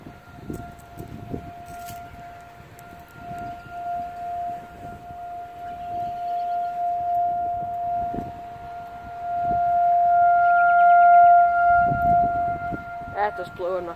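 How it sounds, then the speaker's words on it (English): Outdoor Federal Signal civil defense siren sounding during a test, a steady wailing tone that holds on and swells louder toward the end, with distant rumble and a few people talking quietly in the background. "There goes the federal signal down there."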